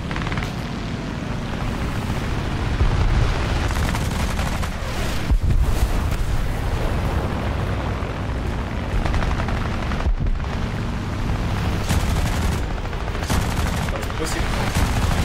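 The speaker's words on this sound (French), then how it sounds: "Les canons de 20 quand ça touche, c'est quelque chose." Rapid bursts of 20 mm aircraft cannon fire in a flight combat video game, loud and continuous over droning engine noise, with sharp cracks of gunfire standing out through the stretch.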